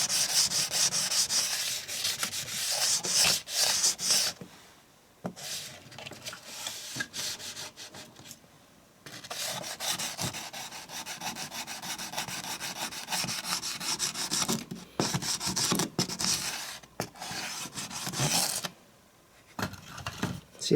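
Steady, close scrubbing and rubbing on a model railway track to clean it, continuous friction noise with a few brief pauses, loud and alone.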